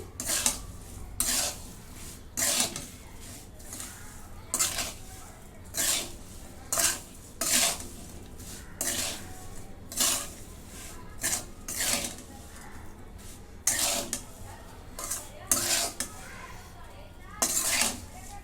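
A spoon scrapes and clinks against a bowl in a steady rhythm of repeated strokes while a mixed pickle of chilli, garlic, bitter gourd and lemon juice is stirred, with someone talking over it.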